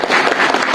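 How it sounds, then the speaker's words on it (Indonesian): Audience applause at an Indonesian community health event on stunting prevention, a dense wash of clapping from a crowd that stays steady and fairly loud through the short burst. "Tepuk tangan untuk kita semua."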